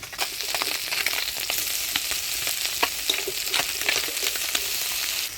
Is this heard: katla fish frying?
yes